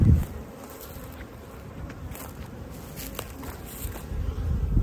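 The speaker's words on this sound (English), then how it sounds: "So I've treated the heck out of these bees." Honeybees recently treated for mites hum steadily in a close, continuous buzz at the hive, with soft handling noise underneath and no talking.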